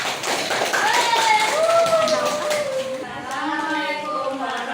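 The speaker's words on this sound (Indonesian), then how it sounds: "Oke, tepuk tangan." A class of children clapping their hands together in a classroom, a dense run of taps with high young voices calling and chattering over it throughout.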